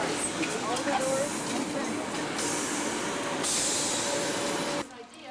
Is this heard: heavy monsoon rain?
no